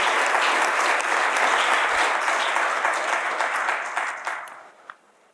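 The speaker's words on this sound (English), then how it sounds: "Big round of applause." A conference audience at the IMI Annual Event 2020 gives a dense, sustained round of clapping that gradually fades and dies away over about five seconds.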